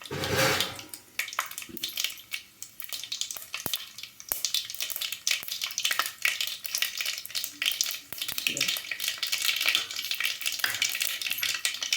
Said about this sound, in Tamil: கடுகு வெடிக்கும்.